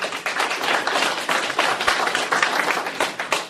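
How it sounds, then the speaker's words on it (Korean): A seated audience at a philosophy colloquium applauds in a dense, continuous wash of clapping that stays loud and close for the whole stretch. "큰 박수 부탁드립니다"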